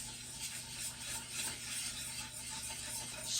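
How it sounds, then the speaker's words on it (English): A spoon stirs banana pudding in a pot, a soft, continuous scraping and swishing with faint metallic rattles, close and steady with no talking. "let me stir this stuff"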